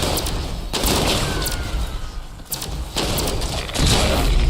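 Sustained heavy gunfire from Fallout, fighting in Skyline Valley: dense, loud, overlapping shots and booms that form a continuous barrage with brief dips in intensity.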